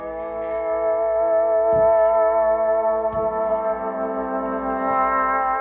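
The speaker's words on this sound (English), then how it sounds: "Sounds kind of like a steel guitar, lap guitar sound that's really altered with a longer decay and a lot of reverb type." Heavily processed steel lap guitar tone in a Logic Pro X song session, holding sustained, shimmering chords with a long decay and lush reverb, with faint taps at intervals and no speech.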